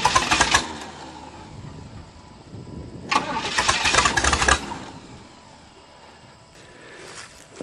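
An old Chevrolet engine cranks in two long bursts separated by pauses, the starter grinding loudly without the motor catching, then a fainter third attempt begins.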